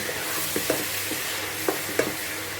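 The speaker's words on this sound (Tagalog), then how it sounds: "Ilagay na natin yung karne. Haluin lang natin." Beef frying with vegetables in a pan, a dense steady sizzle with a few light spatula knocks and scrapes as it is stirred, close up and with no talking.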